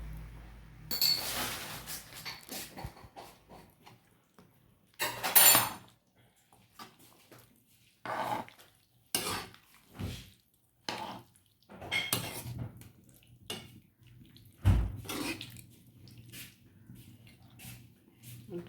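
Chicken curry masala being mixed in a pot: scattered clinks and scrapes of a spoon against metal in short bursts, with quiet gaps and a voice speaking between them.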